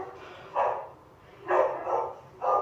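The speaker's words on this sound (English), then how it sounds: "I think that's a real dog" A dog barking at night, four separate barks at uneven intervals, somewhat distant and muffled.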